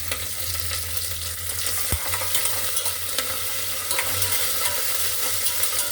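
Garlic, mustard seeds, cumin and chillies fry in hot oil with a steady, dense sizzle, joined by occasional scrapes and taps of a stirring spoon against the pan, close up and continuous.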